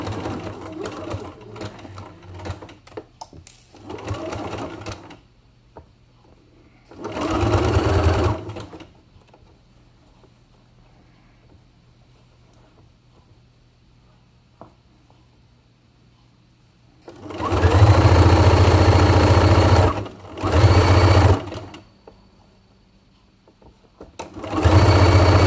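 Sewing machine stitching Jakarta shorts in bursts, with loud runs of a few seconds separated by quiet gaps that hold faint handling sounds and soft speech.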